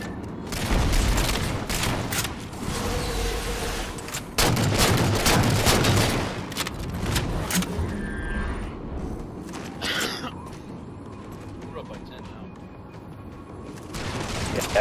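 Bursts of gunfire and explosions in a shooter video game, with several loud volleys of rapid shots and booms scattered across the stretch, plus occasional quieter single shots in between.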